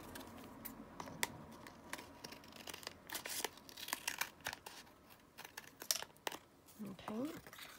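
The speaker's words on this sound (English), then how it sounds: "Just cut this down." Scissors snip and cut down a paper card for a hot air balloon ephemera piece made from a playing card, with short crisp cuts and light paper rustling up close, while someone talks intermittently over them.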